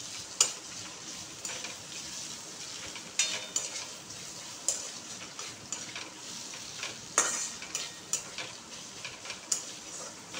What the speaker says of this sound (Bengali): একবার ফ্রাই করে নিচ্ছি একটুখানি টমেটো সস দিয়ে লাগিয়ে মাংসটাকে